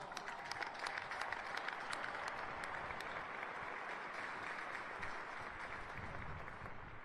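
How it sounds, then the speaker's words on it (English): Sustained applause from a large audience honoring graduates' families at a US military academy commencement, a dense, even wash of clapping that holds steady for several seconds, heard from a distance. "Let's give them a round of applause."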